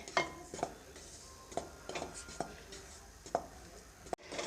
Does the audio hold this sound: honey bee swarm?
no